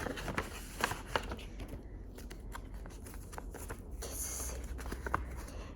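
Paper crinkling and tearing as a gift envelope is opened at a first evening party in Australia, a run of close, crisp rustles and small tears with no talk over it.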